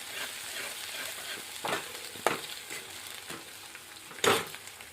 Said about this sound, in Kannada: ಒಂದು ಸ್ವಲ್ಪ ಎಣ್ಣೆಗೆ ಚೆಂದಾಗಿ ಫ್ರೈ ಮಾಡ್ಕೋಬೇಕ್ರಿ.